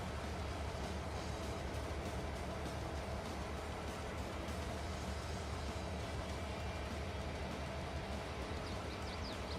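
Train running in Farming Simulator 22, a steady rumbling rail drone with faint rhythmic rattling, constant and quiet throughout with no voices.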